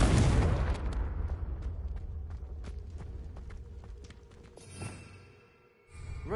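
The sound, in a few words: Confringo spell explosion from a Hogwarts video game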